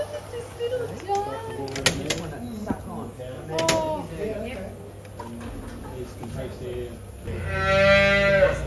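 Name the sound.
calves on a farm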